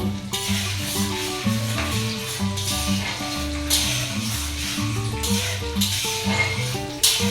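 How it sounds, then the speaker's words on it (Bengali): Cashews and raisins fry in ghee for moti polau, a steady sizzle beneath melodic background music with occasional clinks of a pan. "কাজুটা হালকা করে ভেজে তুলে নিয়ে কিশমিশটা দেবো"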